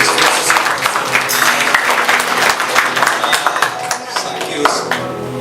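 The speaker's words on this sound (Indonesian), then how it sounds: "kita kasih tepuk tangan untuk Tuhan Yesus Kristus." A church congregation at a Christmas Sunday service breaks into loud, dense applause, with many hands clapping in a continuous crackle that gradually thins toward the end.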